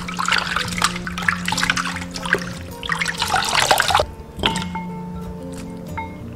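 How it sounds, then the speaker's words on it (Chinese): Chicken feet being rinsed in clean water, with wet squishing, splashing and dripping sounds handled close up, busy at first and then thinning to sparse drips and a few knocks. "装清水中清洗干净"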